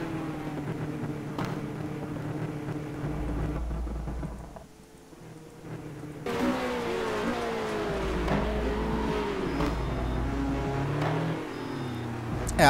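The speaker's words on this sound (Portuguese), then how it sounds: "Deixa só eu ver aqui na on-board o volume dos carros" GT race car engines in a racing simulator, droning and revving with shifting pitch, dipping briefly before surging back louder and sustained, heard close with no talking.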